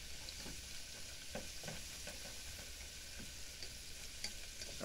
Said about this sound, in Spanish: Voy a freír la cebolla.